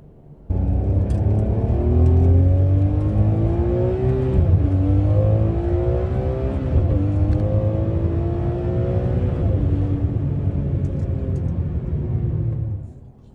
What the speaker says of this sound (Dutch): Ferrari staat natuurlijk bekend om zijn fenomenale motoren, zowel technisch als qua geluid, als qua vermogen.